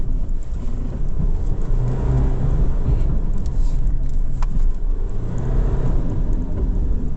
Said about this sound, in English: And straight away we've got wheel spin happening.